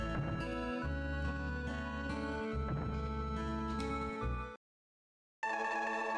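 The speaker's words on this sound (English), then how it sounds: "I remember that sound. That's the sound of saving." Save-game jingle from the Terranigma video game: a bright, melodic chiming phrase with sustained tones that cuts off into brief silence before resuming, played alone without any talk.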